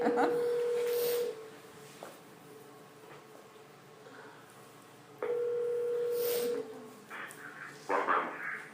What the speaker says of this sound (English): Ron, I'm getting ready to conference you in.